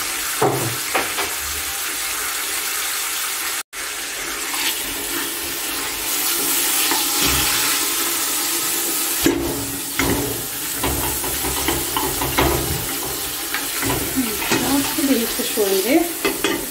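Oil frying with white and black pepper and salt in a pan, a loud continuous hissing sizzle with occasional stirring scrapes and a brief dropout partway through.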